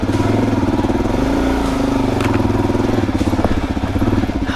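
A Suzuki DRZ400 dual-sport motorcycle with 15/38 gearing on trail, its single-cylinder engine droning steadily and loud close to the rider throughout, with slight rises in revs and no talking.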